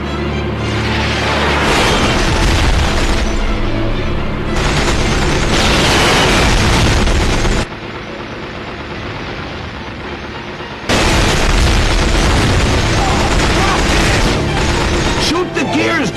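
Heavy booming blasts from a video game action scene where a lock is blown open, loud and dense with rumbling bursts and a sudden drop to quieter background midway before the din returns.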